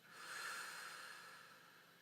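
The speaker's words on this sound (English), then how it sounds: "and breathing out." A single soft exhaled breath during a guided breathing exercise, a quiet airy hiss that rises, holds and slowly fades, close and faint with no talk over it.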